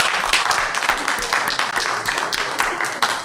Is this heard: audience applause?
yes